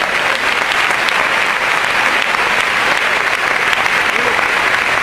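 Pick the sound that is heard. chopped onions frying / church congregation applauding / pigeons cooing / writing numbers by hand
church congregation applauding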